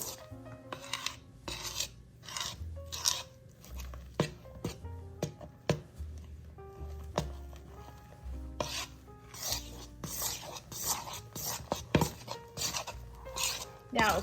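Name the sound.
gently folding Cool Whip candy mixture in a bowl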